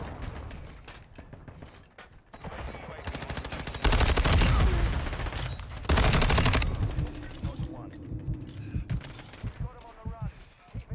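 LMG gunfire in a Modern Warfare 2 match: loud, close automatic bursts come in repeated strings, with someone talking over the shooting.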